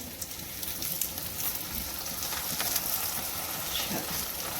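Roti frying in desi ghee on a tawa: a steady, even sizzle with a soft crackle running throughout at close range, and no speech.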